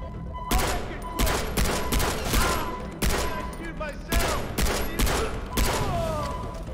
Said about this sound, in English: I thought the gun was automatic